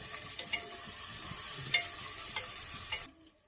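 Potatoes with garlic and tomato are stirred in a hot pan in a home kitchen, giving a steady sizzle broken by a few distinct scraping stirs that stop abruptly near the end.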